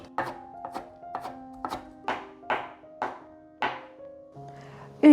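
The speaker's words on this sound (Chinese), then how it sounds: "把姜切碎" A knife mincing ginger on a cutting board produces about nine crisp, evenly spaced chops, close and clear against a quiet background, with a final louder knock at the end.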